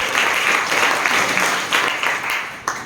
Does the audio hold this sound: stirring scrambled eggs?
no